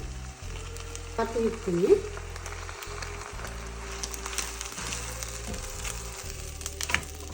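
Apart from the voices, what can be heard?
egg frying in a pan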